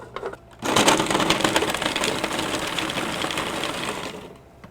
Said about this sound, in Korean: 먼저 비트를 기구에 넣고 갈아줄 거예요